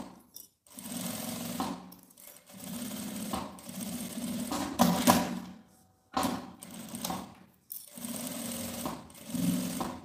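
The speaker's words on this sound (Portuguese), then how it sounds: "eu vou passar uma costura reta com um pé de máquina nas duas laterais e na parte da base" A sewing machine with a presser foot runs a straight seam on a small zippered pouch, buzzing steadily in several bursts separated by brief pauses, close and clear with no talking.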